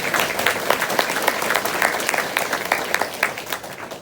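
Audience applause at a mayor's New Year greetings event in Marmagne, a lively burst of many people clapping with crisp individual claps, steady and fairly close throughout.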